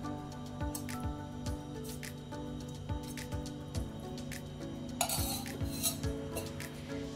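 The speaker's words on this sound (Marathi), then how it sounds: "अगोदर आपल्याला हा रवा भाजून घ्यायचा" A spoon scrapes and taps repeatedly against a pan in a steady stirring rhythm, close and fairly quiet, with a faint sizzle underneath, as semolina roasts in ghee in a hot wok.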